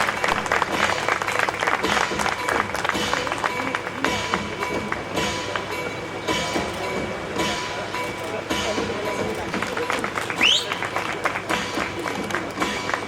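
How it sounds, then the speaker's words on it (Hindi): Sustained applause from a crowd at an event honoring film and television actors, a dense steady clatter of clapping lasting throughout, with a voice speaking over it. "जोरदार तालियों के साथ आप सभी उनका भी स्वागत"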